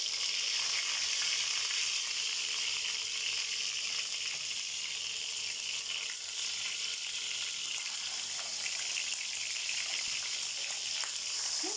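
A stuffed milkfish roll (relyeno) sizzles and spatters steadily in hot oil over a gas flame, a dense continuous frying hiss with crackling pops, close and loud, with no voices.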